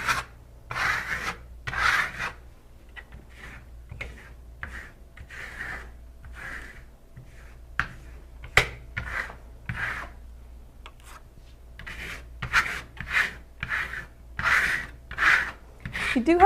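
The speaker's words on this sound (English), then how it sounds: "come back at a slight angle, hard pressure, and scrape off the excess shimmer stone" A trowel scrapes excess shimmer stone plaster off a textured wall at a slight angle under hard pressure, giving repeated rough rasping strokes in a steady rhythm, close and fairly loud.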